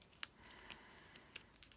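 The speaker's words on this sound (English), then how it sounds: "So then we'll go here and we'll snip this one if we can." Scissors snipping through a painted gift bag, three sharp separate cuts spaced unevenly over under two seconds, close and quiet with no talking.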